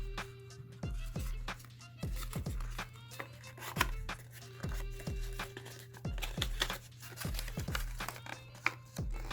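Paper folded into an origami ribbon box: crisp creasing crinkles and sharp taps come in an irregular series of close, fairly loud bursts over a low steady hum.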